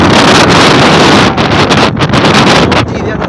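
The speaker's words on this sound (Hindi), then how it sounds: "बहुत ही तेज़ हवा चल रही है" Strong gusting wind in the mountains of Dera Bugti, Balochistan, roars and buffets hard against the microphone, easing in uneven bursts toward the end.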